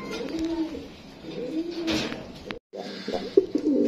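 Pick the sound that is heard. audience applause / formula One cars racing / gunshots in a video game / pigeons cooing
pigeons cooing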